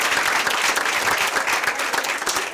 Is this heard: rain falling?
no